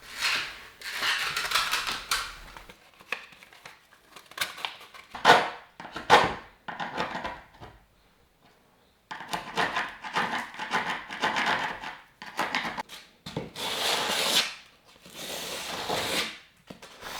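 A hand scraper works paint out of the grooves of wooden tongue-and-groove boards in a Swedish cottage, giving bursts of dry, rasping scrapes and taps in irregular strokes with short pauses, close up and without talk.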